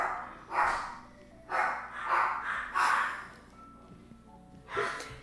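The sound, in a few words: dog Walter barking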